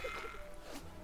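A goat in the game Wizard101 lets out a short, nasal bleat, close and fairly quiet, against a faint electronic game background.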